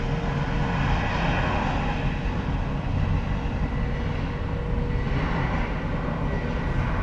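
Airliner approaching Miami International Airport, a steady, loud jet engine roar that holds for several seconds, with no speech over it.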